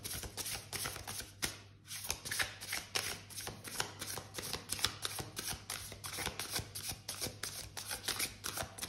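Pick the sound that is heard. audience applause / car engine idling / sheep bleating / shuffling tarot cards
shuffling tarot cards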